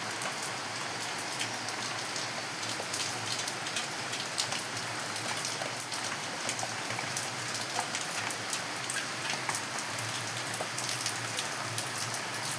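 Heavy rain pours steadily over a banana plantation, a dense, even hiss of drops striking leaves and ground that holds constant for the whole stretch with no talking.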